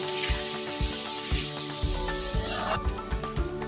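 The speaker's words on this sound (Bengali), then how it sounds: "জলটা দেওয়ার পর এটাকে কষিয়ে ভাজতে থাকবো।" Loud, close sizzling as a spice paste fries in a pan, with rhythmic scraping and stirring knocks throughout the short stretch.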